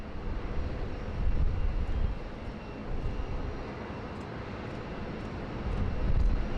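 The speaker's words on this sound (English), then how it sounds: "Qantas 7 just pushing back there," Qantas airliner pushing back at Sydney Airport, a steady low engine roar and drone at a distance with swells and dips in loudness, plus brief faint clicks and no talk.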